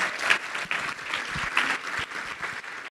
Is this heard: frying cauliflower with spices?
no